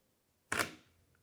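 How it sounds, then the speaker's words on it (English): A single camera shutter click from a test shot at 1/125 second, f8 and ISO 400. It is one crisp, close snap with a short decay in an otherwise quiet room. "So now I'm going to take a few test shots and see how that works."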